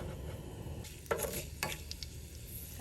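Mustard seeds and a little red chili fry in coconut oil in a pan, a quiet steady sizzle broken by a few sharp pops and metallic clinks, no voices.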